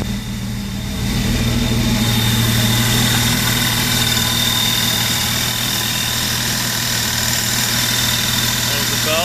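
A Jeep engine idles steadily with a belt-driven York compressor running, producing a loud, continuous mechanical drone and hum that holds unchanged through the whole stretch, with no talking over it.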